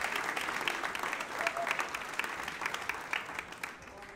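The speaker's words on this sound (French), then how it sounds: "est-ce qu'on peut l'accueillir sous un tonnerre d'applaudissements?" Sustained audience applause in a church as a pastor is welcomed to the stage, a dense, steady wash of many hands clapping close and loud throughout, with no voices over it.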